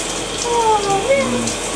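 Water rinsing Maggie's hair in a bath: a steady, close wash of running, splashing water, with faint tonal voice-like sounds drifting over it.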